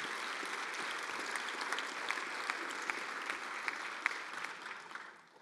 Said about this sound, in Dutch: En geef hem ook uiteraard even een hartelijk applaus